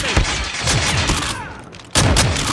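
Dense gunfire in the Call of Duty Mobile video game, with rapid overlapping shots and booms in a loud, busy fusillade that drops out briefly and then resumes.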